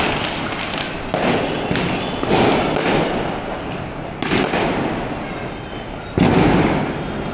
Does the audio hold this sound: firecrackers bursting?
yes